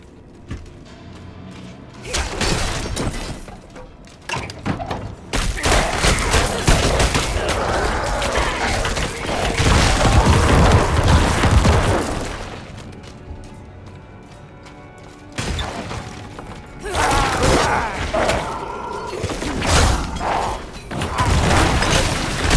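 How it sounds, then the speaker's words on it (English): Corpse Explosion blasts from a Diablo IV necromancer fight rip out in loud bursts of booming, crashing explosions, several dense clusters broken by short lulls. "Corpus Explosion was an excellent addition to the toolkit."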